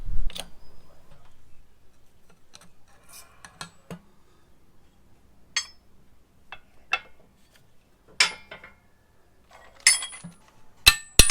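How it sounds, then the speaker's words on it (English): A control arm bushing for a Nissan R34 Nismo is pressed out with a 28mm socket: sparse sharp metallic clicks, ticks and clinks sound close by, with quiet stretches between them. "let me see if I can press this out with a 28mm socket on the back side"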